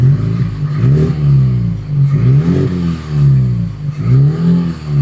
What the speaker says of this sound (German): Gib mal ein bisschen Gas, Thomas